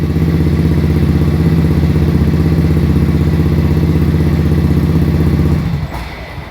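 A Honda Beat FI scooter engine runs loud and close with a steady, buzzing throttle note held for several seconds, then drops off sharply near the end, with no one talking.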